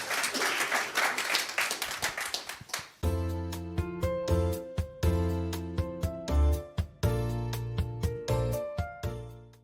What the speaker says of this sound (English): please, a round of applause for this team